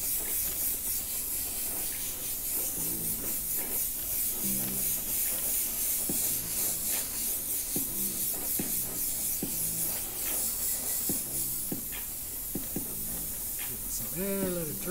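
An airbrush sprays Createx Candy2.0 paint onto metal, giving a steady airy hiss that runs throughout beneath a voice as he talks.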